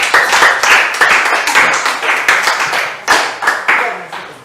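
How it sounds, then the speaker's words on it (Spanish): A church congregation claps together in a Spanish-language service, loud close rhythmic hand claps in uneven bursts, with voices briefly mixed in. "Den un aplauso al Señor"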